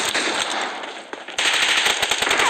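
Rapid bursts of automatic gunfire from a multiplayer shooter video game, loud and continuous with a brief dip before the firing intensifies again; no talk.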